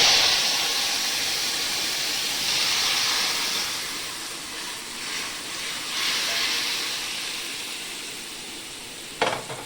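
Magur catfish sliding into a hot wok for a fish curry, giving a loud, bright sizzle that holds steady and slowly fades over several seconds, ending with a short clatter; no voices.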